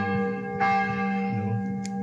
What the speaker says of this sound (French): Les cloches sonnent à la volée